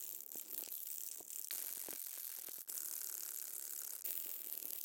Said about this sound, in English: how it sounds after speeding up the video when I shake the can